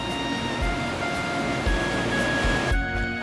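Strong water current rushing through a lock chamber on the Gliwice Canal, a loud, steady broadband roar of churning water with faint tonal hum on top, continuous and close throughout.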